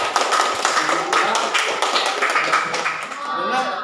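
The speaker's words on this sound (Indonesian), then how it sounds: "Beri tepuk tangan." Several hands clap together in a classroom, a group of pupils applauding a classmate's answer, with broken, uneven claps running steadily over a few seconds alongside murmured voices.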